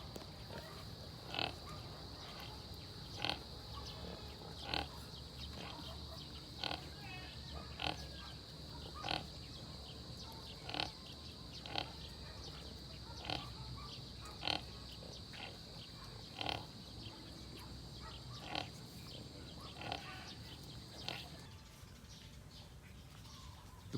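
Pigs, including black sows and piglets, grunting and snuffling at feeding time through a steady hum, with regular sharp clanks repeating every second or two, like metal feeders being worked.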